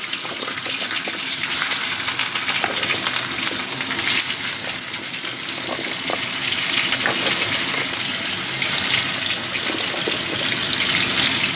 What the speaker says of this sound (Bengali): তেল গরম হয়ে গেছে, কালো জিরে ফোড়ন দিয়ে দিলাম। এবার কাঁচা লঙ্কাটাও দিয়ে দিলাম।